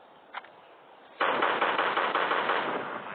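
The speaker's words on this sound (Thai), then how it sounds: "ยิงยิงยิงยิงยิง" Rapid automatic gunfire from zombie shooting in the mobile game Flat Zombie: Defense & Cleanup. It follows a faint click and then runs as one loud, continuous burst of shots to the end, with no talking.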